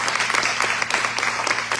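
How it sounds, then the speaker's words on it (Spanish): A church congregation breaks into dense applause at a Spanish-language Easter resurrection sermon, many hands clapping together in a steady, reverberant burst, with faint voices mixed in. "Hay una aplauso al Señor ahí."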